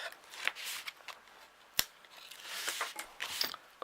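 Tape is peeled off a paper mini album in a series of quiet crackling rips and snips, with a few sharp clicks, close and soft, and no talking.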